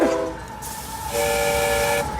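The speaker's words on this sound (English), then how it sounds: "So this is an actual coal-fired steam engine, the Northern Pacific 84 that Bill's got." A coal-fired model steam locomotive, Northern Pacific 84, runs with a steady steam whistle and hiss, sounding close and sustained with a brief break partway through.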